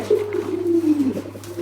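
Pigeons coo close by while competing to eat grit, one steady low coo drawn out for about a second, followed by softer murmuring calls under a constant low hum.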